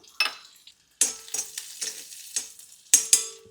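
Cumin seeds and thinly sliced garlic drop into hot ghee and sizzle sharply in several bursts, each crackle fading quickly, close up with a few stirring clinks.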